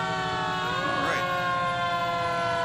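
A fire engine siren at an autumn festival parade, Engine 7 from Westbrook Fire Department, wails steadily with one sweeping rise and fall over continuous engine noise, loud and near, with a voice in the background.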